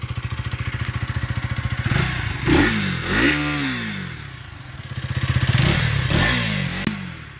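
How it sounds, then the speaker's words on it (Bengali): A new all-black KTM Duke 250 idles in neutral with a rapid, even exhaust thump, then revs up and falls back twice, loud and close. "আমি আপনাদের এক্সজস্ট সাউন্ডটা একটু শোনাই"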